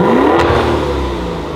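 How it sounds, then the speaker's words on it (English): A 2021 Maserati Levante GTS engine revs up sharply with a throaty exhaust roar, then settles into a lower rumble as it winds down, loud and close. "the exhaust note is why you buy this car. So once again, listen to this exhaust note"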